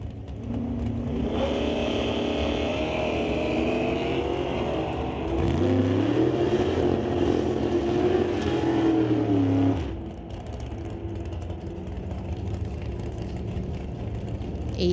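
Drag race cars launching at an NHRA Summit ET Series event, including Rob Monroe Jr.'s 1969 Acadian, engines roaring loud and close, then rising in pitch through the gears before fading abruptly as the cars pull away.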